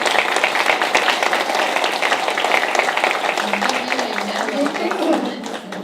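Audience at a school board meeting applauding a student honored for a math accomplishment, a broad clapping texture with voices and talk mixed in throughout.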